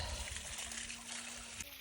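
Water trickles from a newly cased well pipe, a faint, steady dribbling close by with a thin hum underneath and no clear talk.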